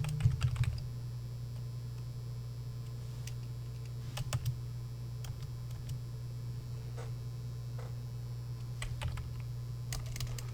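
Sparse keystrokes tap on a computer keyboard while searching a product catalog, faint scattered clicks spread over several seconds above a steady low electrical hum.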